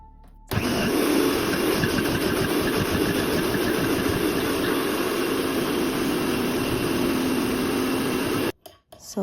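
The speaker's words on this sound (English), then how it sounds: "So now we're gonna go ahead and put this in the blender." A blender runs steadily on purple sea moss and water, a loud continuous motor whir that starts abruptly and cuts off near the end.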